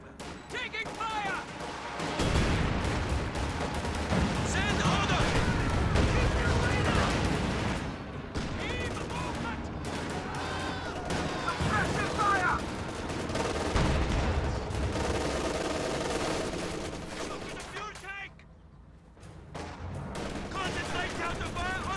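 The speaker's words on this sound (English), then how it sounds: "Taking fire!" Sustained gunfire and explosions from a video game battle with tanks and squads, dense overlapping bursts of shots at close and middle distance with occasional voices mixed in.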